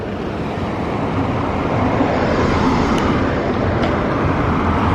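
A car passes along a roadside in Fiji, a steady broadband roadway rush that swells slightly and holds through the moment with no voices.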